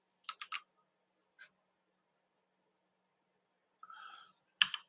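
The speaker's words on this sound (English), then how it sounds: "I'm going to use a keyboard shortcut." A computer keyboard gives a few quiet, close keystrokes: a quick cluster of three taps, a lone tap, then a short rattling press and one sharper click, separated by silence.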